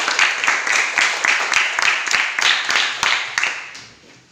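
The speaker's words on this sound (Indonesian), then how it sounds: "Kita beri aplaus dulu untuk kelompok 1." Applause for discussion group 1 at a church gathering, a short round of rhythmic clapping from a small group, fairly close, pulsing steadily and then fading out.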